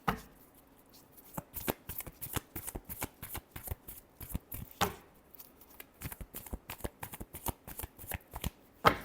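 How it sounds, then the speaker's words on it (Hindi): Tarot cards are shuffled by hand in a quick, steady run of soft riffling slaps and flicks, close and fairly quiet, with no talking over it. "Last shuffle."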